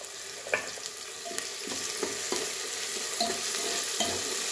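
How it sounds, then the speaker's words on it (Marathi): Tomatoes frying in a clay pot over a fire, a steady hiss of sizzling with scattered scraping stirs and clinks, moderately loud and close, no talking. "टोमॅटो पण आपल्याला मऊ होईपर्यंत शिजून द्यायचं आहे"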